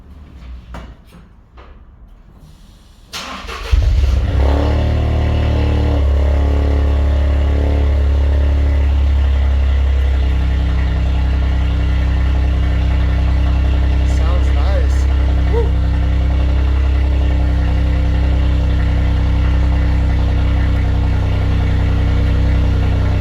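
A car engine cranks and catches after a few seconds of quiet on a semi-cold start, then settles into a loud, steady, raspy idle through an exhaust with the resonator removed.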